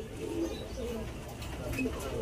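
Racing pigeons coo softly in low, rolling calls at moderate distance, partly under a man's speech.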